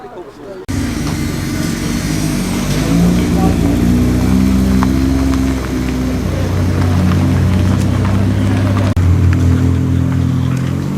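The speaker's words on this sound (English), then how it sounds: "The McLaren 720S and the Rally Mini are also off." A McLaren 720S and a Rally Mini pull away from a busy New Year's Day breakfast car meet, engines droning steadily and loudly throughout under crowd chatter.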